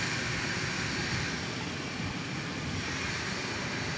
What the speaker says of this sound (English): There's the Mavericks plane crossing the main runway over here.